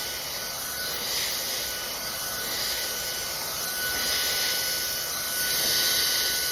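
A blow dryer set to low airflow and high heat, used close up at the hairline of a curly wig, gives a steady, even broadband whoosh with a faint high whine, held alone without pause for the whole stretch.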